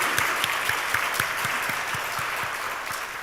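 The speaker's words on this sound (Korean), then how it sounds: "우리 박수 한 번 더 영광의 박수를 올리겠습니다" Church congregation applauding during a Sunday worship service, steady massed clapping filling the room, with some hand claps falling into a regular rhythm and no talk over it.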